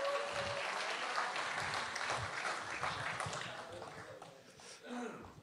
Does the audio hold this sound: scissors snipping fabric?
no